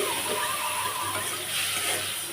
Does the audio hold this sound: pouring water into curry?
yes